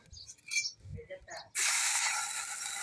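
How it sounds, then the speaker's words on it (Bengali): Water hits a hot, dry pan of roasted vermicelli and bursts into a loud, sustained hiss of steam. Someone talks just before it. "সিমাইটা ভাজা হয়ে গেছে। জল দিয়ে দেবো আমি।"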